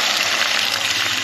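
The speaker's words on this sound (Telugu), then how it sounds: "వాటర్ పోసేస్తున్నాను. మనకు కావాల్సినంత వాటర్ అయితే పోసేస్తున్నాను అనమాట." Water pours into a pot in a steady, loud, close gush with no break.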